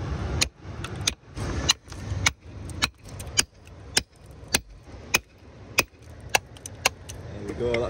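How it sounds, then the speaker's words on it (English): A hammer taps a shale slab to free a fossil nodule on a landslide beach, giving about fifteen sharp, evenly spaced clicks over a steady outdoor background hiss, close and moderately loud. "So let's give it a few more taps and see if we can get the nodule out."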